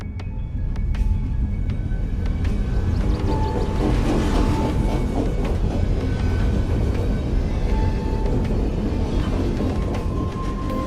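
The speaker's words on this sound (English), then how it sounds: "And here come the trains again." Trains in the game Night In The Woods rumble past as a loud, continuous low roar, a broad rushing wash with faint tonal squeals riding over it and no voices.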